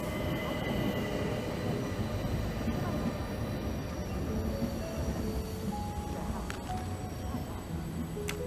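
Rumbling train carriage on the Orient Express in the Agatha Christie Murder on the Orient Express video game, a steady wheel-on-rail drone with faint squeal-like tones, under occasional speech.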